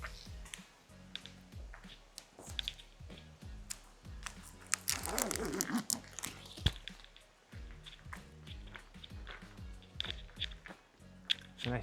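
Crunchy, wet chewing of an original-flavor meat stick snack, close and fairly loud, with irregular bites and squishy mastication sounds repeating throughout, no talk.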